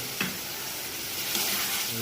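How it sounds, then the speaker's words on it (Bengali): Fried potato pieces stirred into a sizzling fish curry masala of bhola fish in a pan, a steady hiss of frying with a couple of sharp scraping strokes from the spoon, close and alone. "এবার আলু দেওয়া হলো ভাজা আলুটা আর ওটা ভালো করে নাড়াতে হবে মশলার সাথে"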